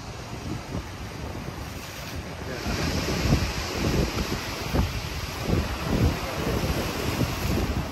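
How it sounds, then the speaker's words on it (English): Ocean waves crash against the rocks at Redondo Beach pier in Los Angeles. Repeated close surges break and wash over the stones under steady wind noise on the microphone, with no voices. "the waves here in Los Angeles do crash along"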